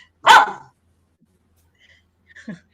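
Dog barking, a single sharp, loud close bark followed by quiet, then a fainter short yip or bark near the end.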